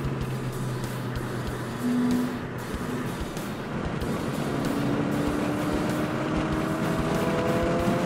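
A Ford Fiesta ST is driven hard on a race track, its engine note rising and falling through the gears as a loud, continuous drone close by.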